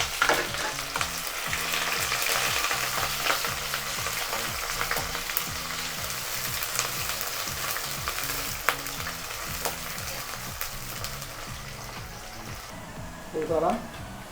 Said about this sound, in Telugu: నూనె కాగానే ఉల్లిగడ్డలు వేసుకున్నాం